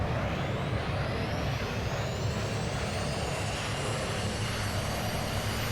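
F-16 auxiliary power unit spools up in the VTOL VR flight game, a steady loud roaring whine with a slowly rising high-pitched tone over several seconds, with no talking.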